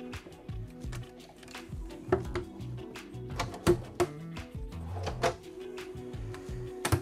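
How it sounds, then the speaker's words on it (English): A kitchen drawer in a 2023 Tiffin Allegro Bus 40IP motorhome slides out with a run of close, light rattling and sliding clunks, a few sharper knocks standing out. "All right, drawer pulls out."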